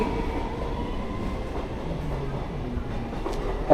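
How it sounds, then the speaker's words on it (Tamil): A train rumbles past close to a house, its steady heavy roar filling the air throughout, with a brief sharper clatter near the end. "ட்ரெயின் பக்கத்துலேயே இருக்கு எங்கள் வீடு."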